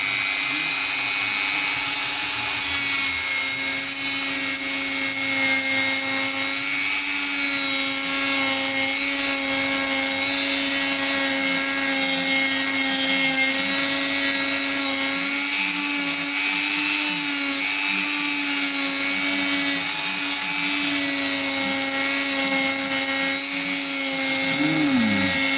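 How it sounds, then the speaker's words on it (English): A power drill runs continuously during a setup of a Vintage V100 Lemon Drop electric guitar. It gives a loud, steady, close motor whine that holds for the whole stretch, with a brief drop in pitch as it winds down at the end. "I'm going to make a bit of noise here with this drill thing."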